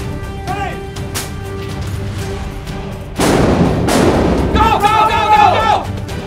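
Gunfire goes off during a police special forces tactical drill, with sharp bangs and a loud burst of blasts, mixed with shouting voices and a close, noisy indoor bustle.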